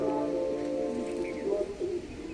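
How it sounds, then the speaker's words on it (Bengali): Fancy pigeons in a rooftop loft give low, throaty coos, several overlapping calls close by over a soft background rustle. "এখানে কিছু কবুতরও উড়ছে"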